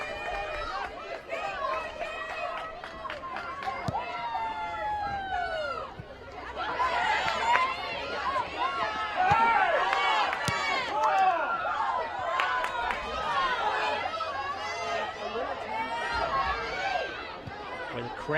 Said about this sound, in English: Crowd is getting excited here.